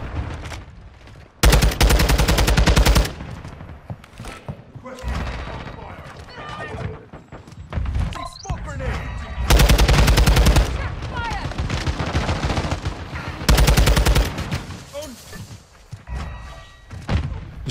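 TAQ 56 assault rifle fire in Modern Warfare 2 on the small, chaotic Shipment map, with loud close bursts of automatic shots in several rapid strings and scattered distant gunfire, while someone talks between bursts.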